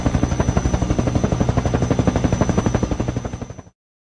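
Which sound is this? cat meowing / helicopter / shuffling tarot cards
helicopter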